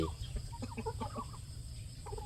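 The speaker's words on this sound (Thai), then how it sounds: "เป็ดไก่" Chickens cluck in scattered, faint calls against a low rumbling background.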